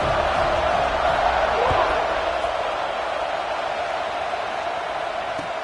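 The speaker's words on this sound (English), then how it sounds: "this crowd is buzzing after that last score." A football stadium crowd at an LSU versus Oregon game keeps up a steady, loud roar after a touchdown, a dense, continuous wash of noise with no break.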